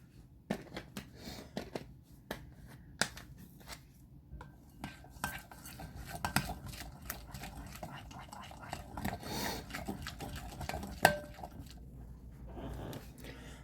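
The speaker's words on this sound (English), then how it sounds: "I think we're going to go ahead and add some more bacon bits." Bacon bits shaken and scraped into a bowl of tortellini pasta salad bring soft rustles, taps and utensil clinks throughout, close up, with quiet talk over it.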